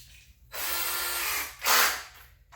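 A power drill with a Phillips bit whirs in two bursts as it drives a screw into a drywall anchor, a long run then a shorter, sharper one, close up with no talk.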